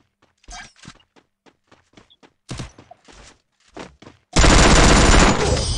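Free Fire gameplay begins with scattered sharp single shots and thuds, then bursts into a loud, dense, continuous volley of rapid automatic gunfire that runs to the end.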